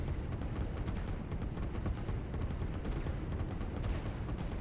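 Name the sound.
artillery fire in video game Line War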